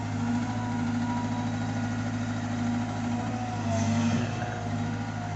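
A CAT 320GC excavator's four-cylinder common-rail diesel engine idles nearby with a constant low rumble and vibration, rising slightly in intensity for a moment near the end.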